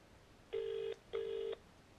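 A telephone dialing a council gives two short, even tones about half a second each, faint and alone.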